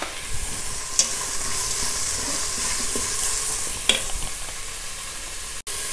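Chopped carrot and fresh green peas sauté in a pot, giving a constant, fairly loud sizzle with a couple of sharp stirring clacks, heard close and without any voices.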